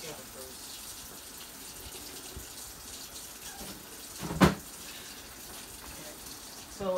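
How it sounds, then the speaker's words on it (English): Water poured into a bowl of flour while it is stirred by hand in a home kitchen, making a steady, soft wash of trickling noise with one sharp clink partway through. "take my flour and just mix water in it. But at the same time, while I'm putting water in it, stir it"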